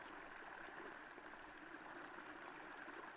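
Video game river of flowing water, a faint, steady rushing and gurgling wash that continues evenly with no breaks.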